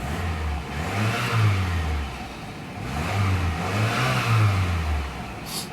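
A 2000 Toyota Camry LE engine revs up twice in steady, rising-and-falling sweeps, a close, loud mid-pitched roar with no talking.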